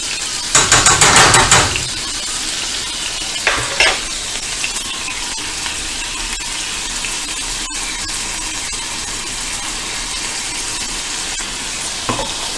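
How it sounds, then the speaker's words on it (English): Butter with parsley and Italian seasoning sizzling in a frying pan, a loud burst of frying and stirring early on, then settling into a steady, quieter sizzle with occasional clinks. "We're just going to get the butter to melt"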